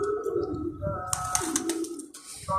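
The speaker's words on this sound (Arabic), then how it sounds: "انا عندي طيور هنا هاي موجوده بالسطح" Rooftop pigeons coo in low, throaty rolls close by, with a brief rustle and chirp mixed in over a few seconds.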